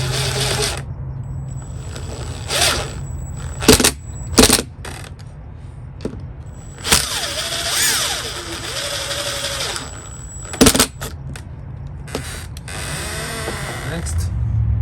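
Screws turned by hand while installing a Lockly smart lock on a Ford F-350 truck-bed tiny home, heard as close metallic ratcheting clicks and sharp knocks amid a steady low hum, with brief scraping passages.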